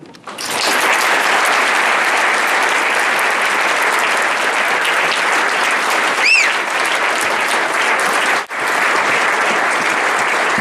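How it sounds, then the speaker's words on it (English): Loud, sustained applause from a large crowd at a luncheon, steady clapping for about ten seconds with a brief dip near the end. "another round of applause"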